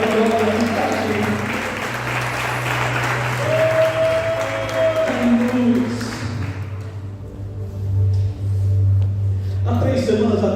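A church congregation claps steadily, a dense wash of applause that fades after several seconds, with music and voices in the background.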